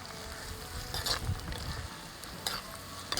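Onions sauté in a pan as the base for a Varapuzha-style fish curry, giving a steady sizzle with scraping stir strokes and brief louder clatters of the spoon against the pan.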